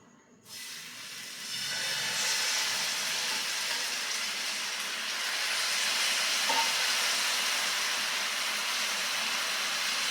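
Semolina uttapam batter hitting a hot tava, a sudden strong sizzle that rises within the first second and then holds as a steady, loud hiss for the rest of the clip, close by and with no speech.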